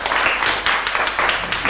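An audience at a literary concert applauds author Park Song-hwa, a brief burst of dense, loud clapping that holds steady for the whole moment.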